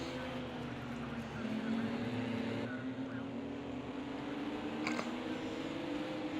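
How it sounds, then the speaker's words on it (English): GT4 race cars revving at the start of a race, a loud steady engine drone with a slowly rising pitch, heard from a distance and mixed with crowd or track noise. "and as they are revving up to get going green"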